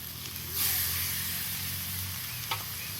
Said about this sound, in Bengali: এবার আমি চিকেনটা ঢেলে দেবো।